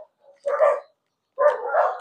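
A dog barks in two loud, close bursts, each a quick cluster of barks separated by about half a second of silence, with a faint yip just before the first.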